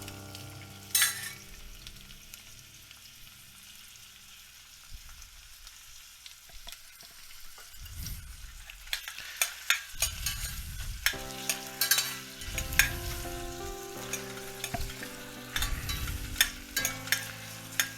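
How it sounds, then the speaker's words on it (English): Chopped onions sautéing in a pan while preparing green coconut pulau rice, with stirring scrapes and a steady sizzle that swells in several louder bursts, close and with no talking. "So as you saute, when the smell comes up, it's an indication that it is to add the next ingredient, which is our chopped onions."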